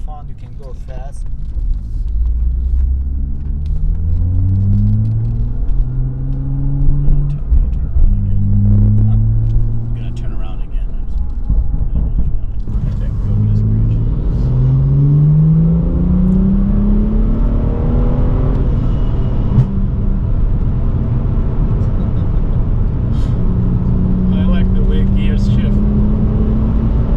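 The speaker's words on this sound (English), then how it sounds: "Can hear that exhaust like popping." A BMW M2 on the move sends out a loud, deep engine and exhaust drone, with revs climbing and falling repeatedly through the gears over a steady road rumble.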